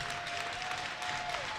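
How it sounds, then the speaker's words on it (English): Steady, roaring applause fills a crowded college hockey arena at a Syracuse versus Oswego State game, a dense wash of clapping and crowd noise that holds level without a break. "you can just hear the thunderous applause and cheer from not only the Orange"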